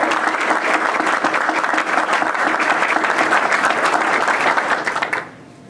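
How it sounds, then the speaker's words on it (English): Hearty applause fills a Chamber of Commerce gathering: steady, crowded clapping for about five seconds before dropping off sharply to a quiet room. "Give Fred and the Chamber of Commerce a round of applause"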